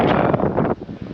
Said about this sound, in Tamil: ஏன்னா அந்தளவுக்கு காற்று பயங்கரமாக அடிக்கும்.